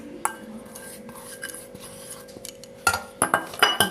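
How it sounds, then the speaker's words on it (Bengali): Eggs and sugar being beaten in a bowl for a homemade cake: sparse utensil clinks against the bowl, then a denser run of rapid scraping and clinking taps toward the end. "এবার আরও ভালো করে ফাটিয়ে নেব ডিমটার সঙ্গে।"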